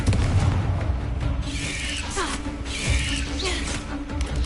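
A Confringo blasting spell explodes in a video game with a loud, booming crash. Creaking, popping debris and whooshing effects follow over a continuous rumbling background.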